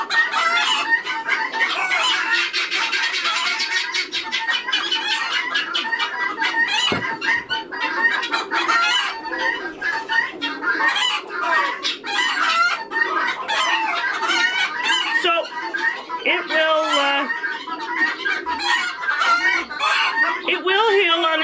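Chickens clucking and squawking close by in a lively, continuous chorus, with occasional crowing and sharper calls breaking through the busy flock noise.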